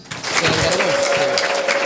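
A church congregation applauds God together, a dense, steady patter of many hands clapping, close and lively, with a sustained tone and faint voices running underneath.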